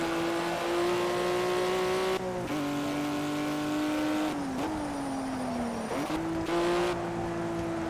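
Race car in the Project CARS racing game drifting, a steady loud engine drone with pitch shifts and brief gear-change dips throughout, no talk over it.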